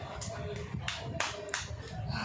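A small child claps their hands about six times in a loose, uneven rhythm, with soft voices and room noise underneath.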